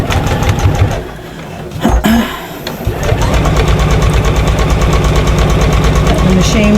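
A sewing machine stitches a fabric shopper bag in a rapid, even mechanical chatter, close and loud, pausing briefly once before running steadily again to the end.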